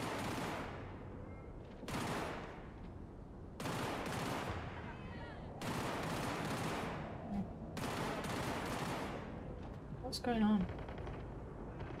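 Repeated bursts of automatic gunfire in the video game Cyberpunk 2077 erupt in loud blasts separated by short pauses, with someone briefly speaking over the action.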